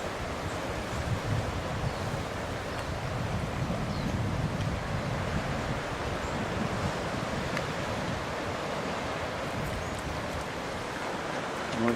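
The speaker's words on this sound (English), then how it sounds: "The Southern Ocean right there again." Steady roar of Southern Ocean waves and surf along the South Coast Track, broad and continuous, mixed with wind buffeting the microphone, no voices.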